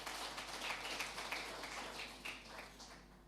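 An audience at a regional government address applauds, a quiet, slightly distant patter of many hands with uneven surges, steady hum underneath and no talk.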